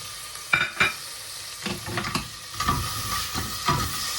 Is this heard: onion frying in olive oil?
yes